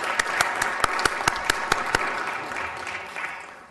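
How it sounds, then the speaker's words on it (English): A small group claps at a community and infrastructure services committee meeting, a brief scatter of distinct, rhythmic claps that thins out and fades after a couple of seconds in a quiet room. "I think we should all clap."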